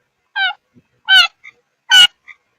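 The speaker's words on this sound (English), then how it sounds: "Wow, your bird is active today." Pet bird making loud, harsh honking calls indoors, three strong bursts with a couple of shorter chirps between them, close and clear with no talking.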